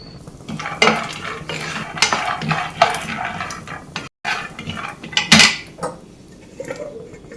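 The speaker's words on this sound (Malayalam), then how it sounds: "അടുത്ത് നമുക്ക് നിലക്കടല റോസ്റ്റ് ചെയ്തെടുക്കാം." Peanuts roasting in a pan, with metal spoon scrapes and clinks against the pan in irregular bursts, dry rattling stirs close by and short quiet gaps between them.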